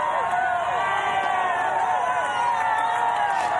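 Crowd cheering from spectators lining the barriers as a Paralympic triathlete runs past in Paris, a steady roar of voices with whoops, continuous and fairly loud throughout.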